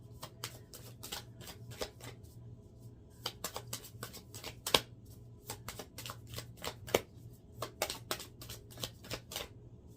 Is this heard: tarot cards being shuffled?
yes